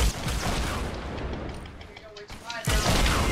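Explosions in Fortnite Battle Royale on Xbox One, heavy booming blasts at the start and again near the end, with a quieter stretch between them and a voice talking.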